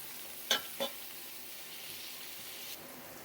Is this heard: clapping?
no